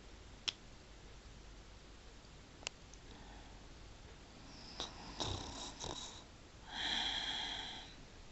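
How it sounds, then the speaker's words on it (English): Soft, faint snoring from a sleeping person, with a few isolated clicks and a rougher, wheezy breath toward the end, all at low volume. "Snoring."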